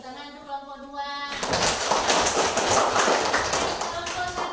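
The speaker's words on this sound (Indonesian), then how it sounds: "Tepuk tangan untuk kelompok 2." Children in a classroom break into a burst of applause after a moment of speech, the dense clapping continuing steadily and fairly loud to the end.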